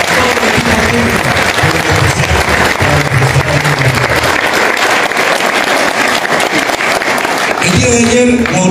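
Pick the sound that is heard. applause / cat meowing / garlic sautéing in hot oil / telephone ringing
applause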